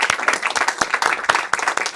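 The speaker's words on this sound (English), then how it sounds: "we're going to give a round of applause for her again today for an amazing job that she did" Audience applause for the moderator at an event with Ambassador William Walker: dense, steady clapping from many hands, with sharp individual claps standing out, filling the whole stretch without talk.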